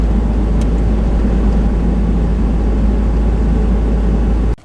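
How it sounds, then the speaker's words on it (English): A van driving on a hot day gives a steady loud rumble of engine and road noise with no pauses, cutting off abruptly at the end. "I'm gonna drive first because it's hot"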